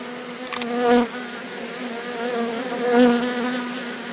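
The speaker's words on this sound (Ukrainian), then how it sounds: "Ну а поки бджоли закінчують заходити до колоди" Honey bees buzz in a dense, steady drone around a hollow log hive, with a couple of individual bees swelling louder as they pass close.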